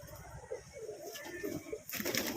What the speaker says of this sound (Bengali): পায়রা কোথায় স্ট্যান্ডিং দেখবে আমার পায়রা